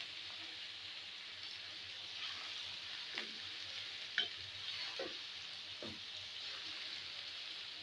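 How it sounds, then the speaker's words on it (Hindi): Ginger garlic paste stirred and frying in a pan while cooking green beans, a steady soft sizzle with a few scraping stirs of the spoon, close and fairly quiet, no talking. "और अब इसमें अदरक लहसुन का पेस्ट ऐड कर देंगे और इसको मिक्स करेंगे अच्छे से।"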